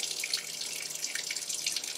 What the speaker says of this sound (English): what this initial burst of water is doing is going through the dispenser and washing in the liquid detergent